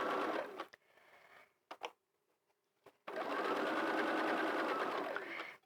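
A sewing machine stitching wadding for a hat runs in a short burst, stops for a couple of seconds with a few clicks as the fabric is adjusted, then resumes a longer, steady close-up whir.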